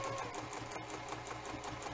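Sewing machine stitching a T-shirt quilt, a fast steady mechanical whir with rapid rhythmic needle clatter, close and continuous with a brief hitch partway through.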